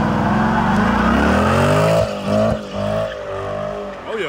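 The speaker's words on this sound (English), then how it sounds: "he finna do a little burnout, so we gonna see what it like then" A Chrysler 300 roars through a loud, sustained burnout, its engine held at high revs for about two seconds before dropping and surging again in bursts, with tire squeal and roar filling the whole clip close up.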